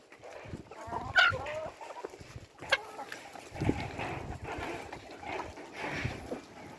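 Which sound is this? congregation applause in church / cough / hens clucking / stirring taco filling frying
hens clucking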